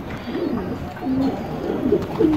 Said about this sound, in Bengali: এগুলো হচ্ছে সিলভার মুসালদম কবুতর